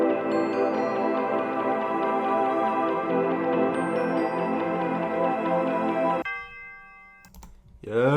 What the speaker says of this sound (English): Bell 4 out of Xenology. Just really the same pattern over and over again every other 2 bars.